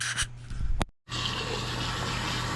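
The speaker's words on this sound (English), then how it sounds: "I'm just pouring tap water into the rice" Tap water pours steadily into a rice cooker pot holding rinsed white rice, a close, full rushing splash that breaks briefly before resuming louder and constant.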